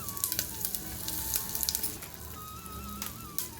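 Mustard seeds, cumin and asafoetida crackle and sizzle in hot ghee, a dense steady frying hiss with sharp pops scattered throughout, close up, no voices.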